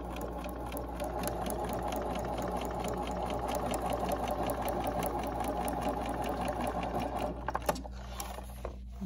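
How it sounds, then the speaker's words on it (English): A domestic sewing machine runs steadily, stitching a quarter-inch seam along a quilt block. Its fast, even mechanical whir stays close and loud almost to the end, then stops briefly before starting again. "take it to the sewing machine and I'm going to sew a quarter inch on each side."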